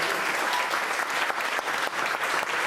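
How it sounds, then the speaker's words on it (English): Steady audience applause at a college alumni awards ceremony, a broad wash of many people clapping, somewhat soft and distant in a large room, with a few sharper claps now and then. "So just a round of applause for"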